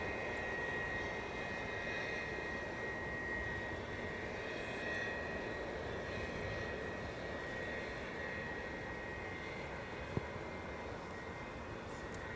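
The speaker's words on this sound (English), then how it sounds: "It's a Bombardier Challenger 350 headed to 17 for departure." A Bombardier Challenger 350 business jet taxis toward the runway for departure, its steady engine roar holding at a constant level throughout, with a faint high whine above it.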